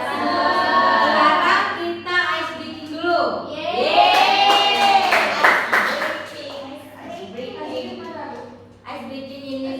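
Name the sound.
class clapping game tepuk pagi sore malam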